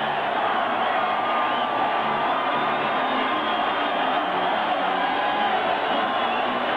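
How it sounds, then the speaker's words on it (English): A football stadium crowd at a Raiders home game against the Broncos roars continuously, a dense, loud wash of screaming voices with no pauses. "Hear the crowd screaming, save our Raiders."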